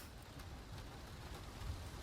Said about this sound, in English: Raining once again.